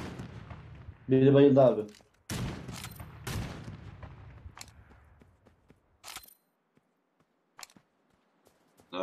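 Gunfire in a shooter video game comes from behind the player: a few sharp, loud shots spaced apart, with another burst of noise and people talking in between.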